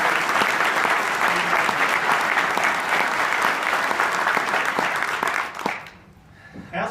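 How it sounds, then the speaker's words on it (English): Sales-kickoff audience giving the award winners a loud round of clapping, thick and sustained for several seconds before dying away abruptly near the end. "Let's give all the winners and the folks who recognize one more round of applause."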